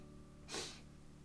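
A single short sniffle, one quick airy intake through the nose, faint and close, from a person with a runny nose while painting.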